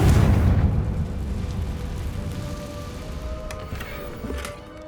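A Confringo blasting spell detonating in the Hogwarts Legacy game: a heavy, close boom at the start that rolls into a long, fading rumble with faint rattles near the end, and no talk.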